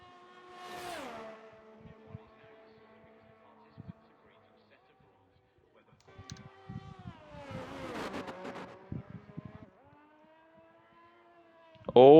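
A Ferrari race car in a racing video game buzzes past on track, engine notes rising and falling through gear changes in several passes, with a loud burst at the very end.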